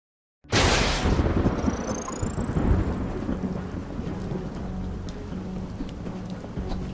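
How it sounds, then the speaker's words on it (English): Thunderstorm with rain in the video game UnMetal: a sudden loud crack of thunder gives way to a long rolling rumble over a steady hiss of rainfall, with no voices. "Oh, and there was a storm."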